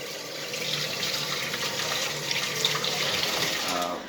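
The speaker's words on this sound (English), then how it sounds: "rinse my hands out" Running tap water splashing steadily into a sink while hands are rinsed during lasagna preparation, a close, continuous hiss of flowing water with no talking.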